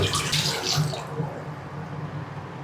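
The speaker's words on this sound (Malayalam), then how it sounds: "ദോശ ഉണ്ടാക്കിയ പാത്രമൊക്കെ അല്ലേ, അതൊക്കെ ഒന്ന് കഴുകി വെക്കാം" Water runs from a kitchen tap while dishes used for making dosa are rinsed, a steady close splashing rush that is strongest at first and then settles into a softer flow.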